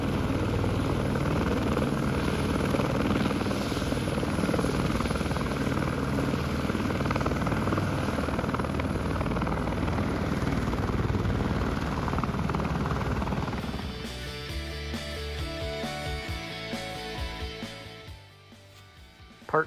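A helicopter flying over steep New Zealand mountains on a hunting trip gives a loud, steady rotor thump and turbine whine close by for most of the stretch, then the sound thins and fades near the end.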